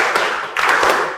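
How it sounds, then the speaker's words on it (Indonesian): A group claps in unison for the 'tepuk semangat' rhythmic clapping routine in a teacher-training class, loud and close, in a few quick dense bursts with brief gaps and no talking. "Kita tepuk semangat luar biasa."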